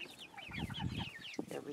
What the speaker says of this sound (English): So there's my three cuckoo roosters.